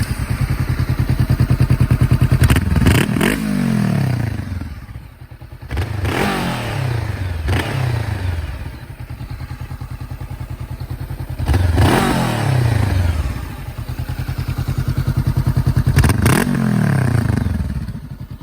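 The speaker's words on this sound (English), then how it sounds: "I do remember I haven't even shown this bike running." A Honda CB500F motorcycle idling with a steady burbling beat, then revved in several sharp bursts that rise and fall back to idle, heard up close with no talking.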